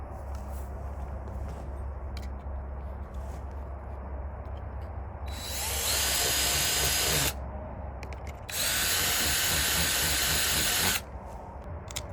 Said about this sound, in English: I'm gonna use a drill bit. It'll open it up a lot easier.